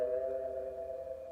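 Samsung Galaxy C4 "Daydream" notification tone from 2016/17: a steady, clear electronic chime held with sustained tonal harmonics, playing alone without any voice.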